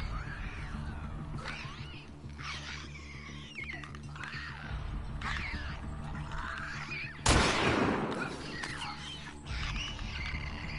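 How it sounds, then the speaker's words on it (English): A single sharp gunshot rings out in a horror-style video game, a loud broadband burst cutting through a steady bed of low droning ambience and growling, animal-like creature noises that continue around it. "She heard the gunshot."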